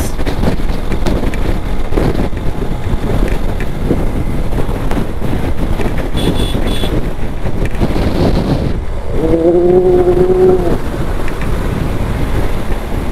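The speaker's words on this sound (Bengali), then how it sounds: "যে পরিমাণ বাতাসে ধরতেছে, মনে হচ্ছে উড়াই নিয়ে যাবে" Strong wind batters the microphone while riding a motorbike as the sky darkens before rain, a loud continuous buffeting roar, with a brief horn-like tone rising partway through.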